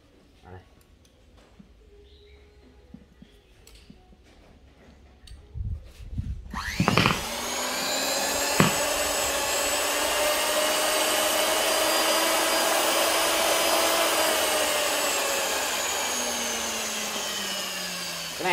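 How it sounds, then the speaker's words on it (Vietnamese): A Sony cordless impact wrench for driving bolts starts with a few clicks and a brief rattle, then runs as a loud, sustained motor whine that slowly rises and falls; someone talks quietly before it starts. "Cái này là cái đầu này đầu bắn bu lông anh em ơi."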